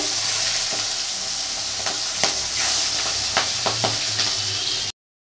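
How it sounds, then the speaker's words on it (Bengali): Prawns frying in hot oil, a loud steady sizzle throughout with a few clinking stirs of a utensil against the pan, close up, cutting off abruptly. "তো চিংড়ি মাছগুলোকে ভেজে নেব"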